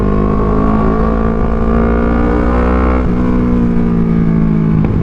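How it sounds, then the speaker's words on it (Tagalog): A Kawasaki Z650 motorcycle exhaust drones loudly and steadily up close, with a smooth engine note that briefly dips and rises mid-run. "Ang ganda ng tunog ng exhaust."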